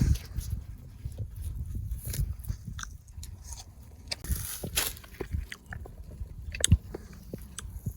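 Someone bites into and chews an African giant banana up close, with soft wet crunches and mouth sounds repeating over several seconds.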